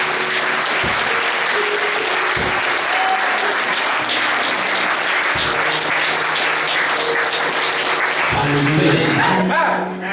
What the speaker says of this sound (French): lève-toi et acclame Dieu très fort